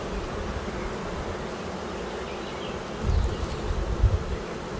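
A honeybee colony close to swarming hums inside a hive, a dense and continuous buzz of many bees, close and steady, with a few low bumps and knocks near the end.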